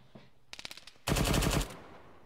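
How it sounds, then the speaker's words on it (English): Gunfire in the video game Arma III: a quick string of separate close shots, then a loud sustained automatic burst lasting about half a second before it fades out. "Where are you guys shooting at?"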